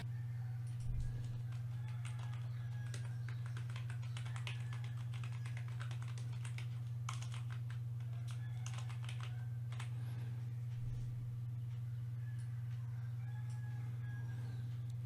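Someone types on a computer keyboard in a fast, irregular run of light clicks that stays faint beneath a steady low electrical hum.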